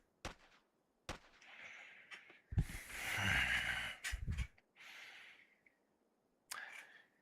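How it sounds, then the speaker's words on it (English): A cat yawns with a breathy, drawn-out exhale. It is loudest in the middle and framed by a few short soft snorts and rustles, close to the microphone, with no talking. "Big yawn."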